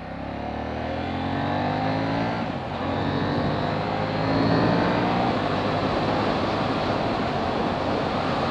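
A 2018 KTM 790 Duke motorcycle with an Akrapovic exhaust cruising on a highway, its engine drone blended with heavy wind rush, steady and loud with a slight rise in revs partway through.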